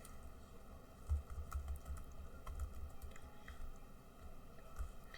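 A new password is typed on a computer keyboard, a faint run of soft, irregular key taps over a quiet hum, with no talk.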